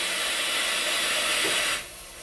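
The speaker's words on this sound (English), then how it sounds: "hit the start button on the front of the instrument. This will close the safety shield" Mooney viscometer closing its safety shield and main platens: a loud, steady pneumatic hiss that runs for nearly two seconds, then cuts off sharply to a quieter background.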